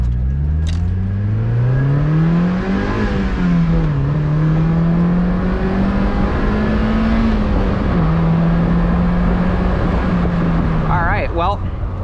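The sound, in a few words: stock Mazda NB Miata car driving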